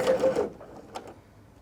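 A sewing machine back stitching fabric for a drawstring backpack gives a short close buzzing run that stops after half a second, leaving quiet with a faint click.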